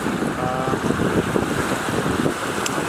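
Steady wind blowing across a boat on the Yukon River, a continuous broadband rush with gusty buffeting against the microphone and faint water wash beneath, no voices.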